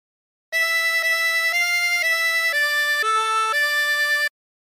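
A 24-hole tremolo harmonica plays a phrase of Aura Lee: seven steady, reedy, wavering notes held in an even rhythm, one of them dipping lower. The sound is loud and close with silence before and after.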